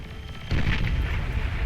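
A Razorback bomber's bomb bursts in the strategy game Beyond All Reason, a sudden loud, deep explosion that kicks in abruptly and rumbles on without fading.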